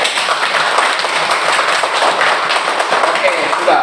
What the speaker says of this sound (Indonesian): Tepuk tangan dulu untuk Salma.